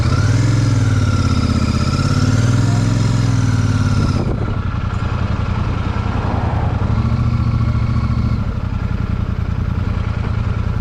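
A motorcycle engine runs steadily in gear with a low, continuous hum, its pitch dipping briefly as it shifts partway through, heard close and alone without talk.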